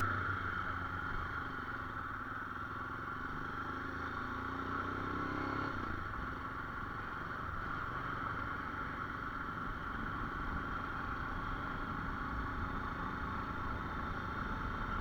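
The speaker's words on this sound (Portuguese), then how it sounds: "Vou deixar aqui o som da moto para vocês terem uma ideia." A new Royal Enfield motorcycle engine, still being broken in, runs steadily for a long stretch, a continuous mid-pitched rumble with a slight change partway through, no voices.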